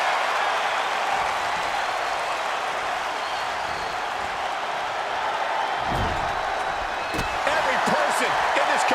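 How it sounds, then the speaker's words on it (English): Capacity crowd roars and cheers steadily in a WWE 2K25 wrestling game arena, a dense continuous wash of noise with a few sharp slams near the end, under a commentator's voice. "Every person in this capacity crowd is on their feet."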